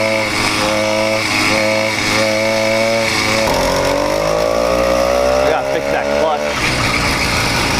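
A close, loud 80cc motorized bicycle engine with a slipping clutch runs and revs, its buzzing pitch wavering, climbing and then dropping back over several seconds, with voices in the background.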